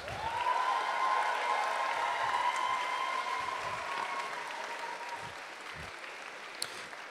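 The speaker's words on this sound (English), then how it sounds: "Everybody give them applause." Audience applause at a FIRST Robotics Competition district event's alliance selection: a steady wash of clapping from a large crowd, loud at first and gradually thinning over several seconds, with a steady tone running underneath.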